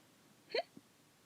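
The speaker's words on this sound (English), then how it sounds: "Sorry, I have the hiccups." A single sharp hiccup from a person at a desk, one brief burst followed by a faint second catch, in a quiet room with no talking.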